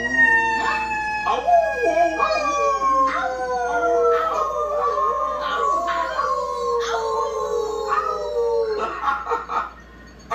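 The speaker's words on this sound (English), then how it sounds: "How did he learn to howl already? A wolf pup can howl when he's 3 weeks old." Cartoon wolf cub howling in a series of rising and falling drawn-out cries, several overlapping howls close and loud, ending with a few shorter yips.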